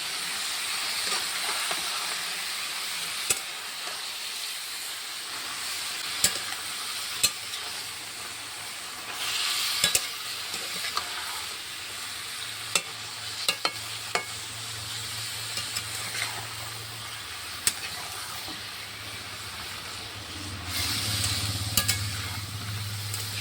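Ash gourd stir-frying with spices in a pan, a steady hiss and crackle running throughout with scattered clicks of a spatula and a low rumble near the end, no voices.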